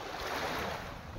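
Sea waves surge onto the shore in a continuous, moderately loud rushing wash of surf with a soft wind rumble against the mic and no voices.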